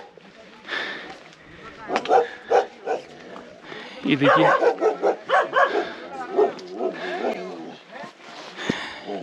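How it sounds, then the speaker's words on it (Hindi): Large, heavy Bhotia dogs bark repeatedly at a meadow campsite on the Rudranath trek. The barks are mixed in with someone talking over them at close range. "और बड़े हैवी भोटिया कुत्ते यहाँ से भौंक रहे हैं अभी।"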